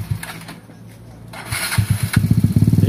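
A motorcycle engine, a Yamaha Mio with a weak battery, cranks, catches, and settles into a steady, loud, rhythmic idle after a few seconds of quiet.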